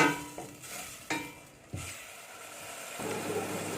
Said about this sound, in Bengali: এখন মশলাটা ভালো করে কষিয়ে নিতে হবে।